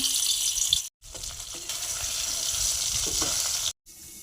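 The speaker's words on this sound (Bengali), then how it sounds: "মাছগুলো ভেজে নেব" Fish pieces sizzle and crackle in a hot pan, a steady close hiss with two brief silent gaps, cooking for a Bengali fish recipe with dumbur (figs).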